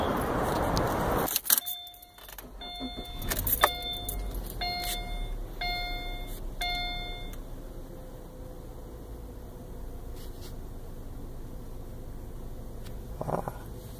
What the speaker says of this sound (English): now let's go see what happens when we restart the car